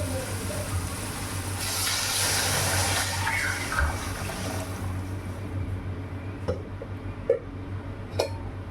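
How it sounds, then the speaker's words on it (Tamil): Tamarind water mixed with curry masala pours into a pot of fish curry. A steady liquid splash rises into a louder rush for a couple of seconds, then eases into a softer simmering hiss with a few faint knocks. "புளி கரைச்சி அதில் குழம்பு மசாலா தூண்டுக்குல அதை போட்டு கரைச்சி வச்சுருக்கேன் இப்போ ஊற்றிடலாம்"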